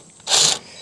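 Socket wrench ratcheting as a flange bolt on the PTO shift lever of a Farmall Cub tractor is loosened, one short close burst of rapid clicking lasting about a quarter second, with no talk.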